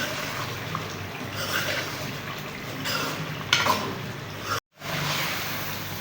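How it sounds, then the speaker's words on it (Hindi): Beef and potatoes frying and being stirred in a pot, a steady close sizzle with light scraping that continues throughout, broken by a brief silent gap near the end. "आलू को इसकी अच्छे से भुनाई कर लेंगे"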